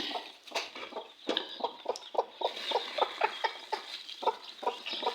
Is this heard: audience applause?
no